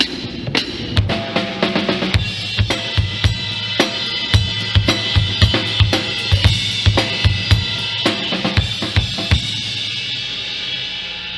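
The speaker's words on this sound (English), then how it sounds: "we're doing more of a quarter note feel on the bell of the ride" A steady drum groove with kick and snare, topped by evenly spaced ringing bell strikes on a ride cymbal marking a steady quarter-note pulse.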